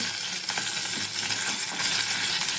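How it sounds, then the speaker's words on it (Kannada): Onions dropped into hot oil with curry leaves in a pan for cluster beans fry, a loud steady crackling sizzle close up, continuous throughout with no talking. "ಈಗ ಈರುಳ್ಳಿ ಹಾಕ್ಕೊಳ್ಳೋಣ."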